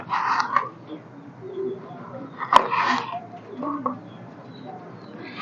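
Soft pigeon cooing and low calls close by, with a sharp knock midway and some muffled voices in the background.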